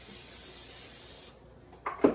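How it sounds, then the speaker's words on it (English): A close hiss of cooking oil sprayed onto a hot, smoking skillet runs steadily, then stops, followed by a few light clattering knocks of pan and utensils nearby. "Spray me some oil on it."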